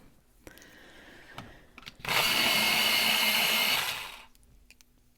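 A coloured pencil is sharpened in an electric sharpener, a steady grinding whir lasting about two seconds, close and loud, set apart by quiet handling clicks before and after.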